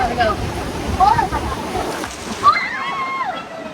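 Water sloshing and splashing around a round raft on the Kali River Rapids ride, broken surges with a louder splash near the middle, mixed with voices and shouts throughout.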